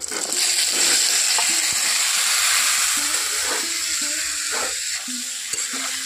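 Ridge gourd pieces drop into hot oil in a pan for a Bengali jhinge dish, setting off a loud, steady sizzle close by, with light clinks of stirring utensils over it and no talking.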